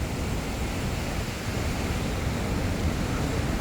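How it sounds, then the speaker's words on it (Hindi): A waterfall in Neelum Valley, Pakistan, roars as a steady, dense rush of falling water, loud and close, with no speech heard. "ये नीलम वैली का वाटरफॉल है ना, ये जो नीलम वैली नहीं है, ये उसका वाटरफॉल है। उधर हमने उधर जाते हैं, एकदम शोर हो रहा है पानी का"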